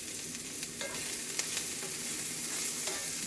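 Mushrooms for stuffing fry down in a pan, releasing their liquid, with a steady close sizzle and light scraping strokes of stirring scattered throughout; no one speaks.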